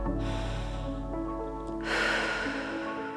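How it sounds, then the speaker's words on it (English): Deep breaths taken in yoga child's pose, a long airy inhale followed by a stronger, louder exhale, close and steady over a low background hum with no talking. "take a couple big breaths"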